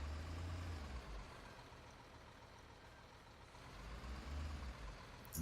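Truck engine in Construction Simulator 15 idling with a low, steady diesel rumble up close while pulling into a gravel plant, heard alone.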